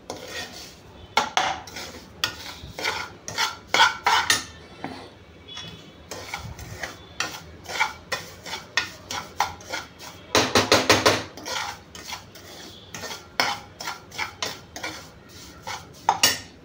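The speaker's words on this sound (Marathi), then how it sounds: "छानपैकी लाल कलर येईपर्यंत हा तुपात छान भाजायचा" Semolina (rava) roasting in ghee in a pan while a spoon scrapes and clanks against the metal, in irregular bursts of stirring, close and clear with no voices.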